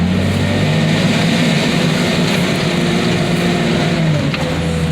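A truck engine runs hard, close and loud, with a steady turbo whine riding over the deep, continuous rumble for the whole stretch and no voices.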